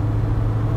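A car's engine roars steadily at full throttle with a deep, loud, continuous rumble during a brief burst of hard acceleration in third gear.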